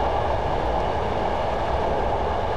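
Class 111 diesel multiple unit coasting along rails in Train Simulator 2015 on the Dumfries to Kirkcudbright line, a steady loud rumble of wheels and running gear with no talk.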